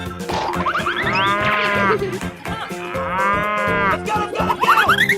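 A cow mooing sound effect plays in an escape room challenge, two long drawn-out moos that rise and fall in pitch, loud and close over a musical backing.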